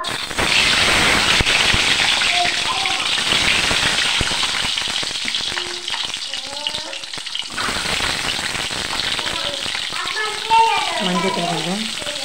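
Eggs crackle and sizzle loudly in hot oil in a pan, a dense steady frying hiss with scattered pops and faint stirring scrapes, a voice talking briefly near the end.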